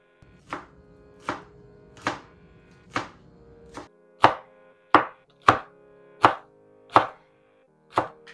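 A knife chops green onion on a cutting board for Olivier salad, about thirteen crisp, evenly spaced taps at a steady unhurried rhythm, close and clear with no talking.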